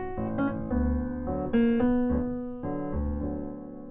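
Wii Channel theme, first line of the B section: a bright, jazzy melody moving over warm, colorful chords with a light bouncing bass, steady and mid-level, with no voices.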